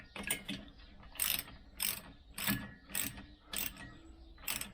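A ratchet wrench tightening bolts in a cross pattern on a Vespa GS scooter, giving quick bursts of clicking pawl sounds repeated about every second, close and fairly clear with no talk.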